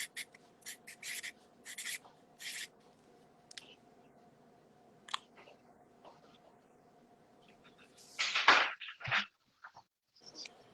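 A pen scratches answers onto a blank card in short, dry bursts of scribbling with pauses between, close and fairly quiet, followed by a louder rustle and shuffle near the end.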